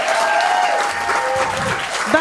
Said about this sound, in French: Selka, l'applaudissez très fort.